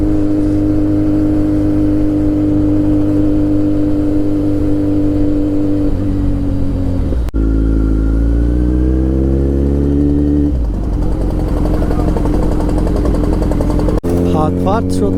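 A Kawasaki Z900 superbike engine revving while riding, loud and close with harmonic drone rising and falling as the throttle changes, shifting pitch through gears for the whole stretch.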